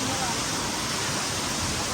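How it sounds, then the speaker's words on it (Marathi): Kemburli waterfall beside the Mumbai–Goa highway, a steady broadband roar of falling water that stays loud and unbroken throughout. "आता आम्ही आलो केंबुर्लीच्या धबधब्याला."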